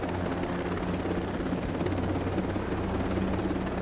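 A helicopter in the video game Operation Motherland flies with a steady, dense rotor and engine roar that holds at even loudness throughout, with no voices over it.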